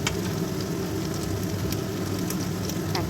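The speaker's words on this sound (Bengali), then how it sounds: "পেঁয়াজটা হালকা করে একটু ভেজে নেব, বেশি লাল লাল ভাজবো না, হালকা ভাজবো, কাঁচা গন্ধটা চলে যাবে।" Onions frying lightly in a pan for vegetable navratan pulao, a steady soft sizzle and crackle close by with scattered small pops, no voices.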